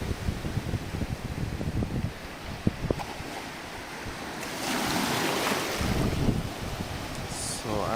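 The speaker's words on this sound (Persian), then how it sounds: "امروز حسابی دریا موجه" Rough sea surf surging and breaking nearby, a steady roar of churning water with heavy wind buffeting the microphone and swelling louder midway.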